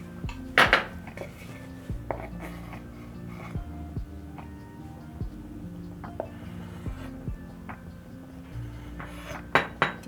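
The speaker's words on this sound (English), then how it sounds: "Now that I've sliced my pineapples, I'm going to place them in a small bowl." Sliced pineapple goes into a small bowl in a kitchen, with several bright clinks and knocks of utensils against dishes, close and fairly loud, spread unevenly over ten seconds.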